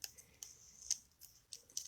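Die-cut paper butterflies are poked out of a card sheet with the end of a pair of scissors, giving a few faint, sharp paper clicks and crackles spread across a quiet background.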